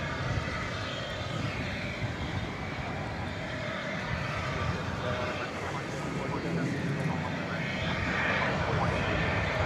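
An American Airlines Boeing 737-800 departs DFW Airport at night, a steady, broad jet roar that holds at a constant distance for the whole stretch and swells slightly toward the end, with no pause or fade.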